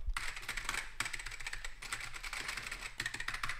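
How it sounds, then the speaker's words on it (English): Rapid, continuous clacking of a computer keyboard, dense bursts of keystrokes close up with only brief gaps, and no voices over it. "all that clacking is really him hitting the delete button on all his typing mistakes"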